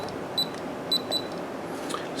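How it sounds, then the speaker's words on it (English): A few sharp, high electronic beeps in quick pairs against a quiet hiss, the short tones of a LaGard electronic keypad safe lock confirming a code. "It'll double beep, the red light will stay on again"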